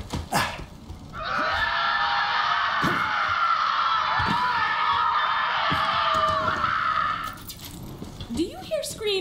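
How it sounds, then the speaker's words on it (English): Distant crowd-like screaming in Borderlands 3 swells up and holds as a sustained wall of yelling for several seconds, then fades, with scattered thumps and a voice at the start and end. "Do you hear screaming, or am I having another one of my episodes?"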